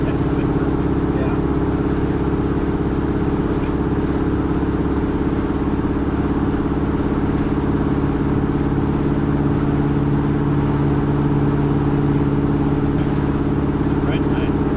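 A restored 1979 Pontiac Trans Am engine cruises steadily in fifth gear at about 2,000 RPM, a low, even droning hum with constant road noise inside the car.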